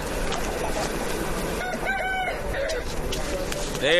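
A rooster crows once at moderate distance over a steady background hum, its call rising and stretching out for about a second.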